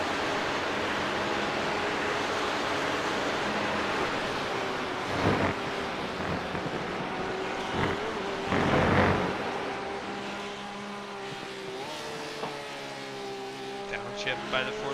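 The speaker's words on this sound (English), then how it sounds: "Downshift by the 45 there, you can hear the gearbox rev up through the carousel" A GT3 race car downshifts through a carousel corner, its engine note holding steady and then climbing in revs as the gearbox drops gears. A commentator talks over it, with steady road and wind roar and a few bumps.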